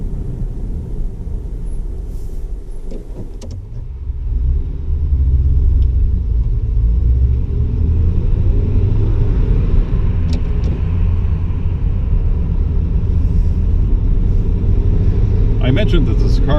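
A 1939 Packard 120 Eight sedan cruises along a road with its engine in overdrive, giving a steady low rumble of engine and road noise that swells slightly after a few seconds and holds constant, with some talk underneath.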